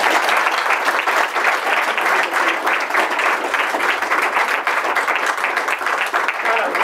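An audience at a talk on the American founding gives a warm, sustained round of applause, dense and close, with many hands clapping continuously throughout.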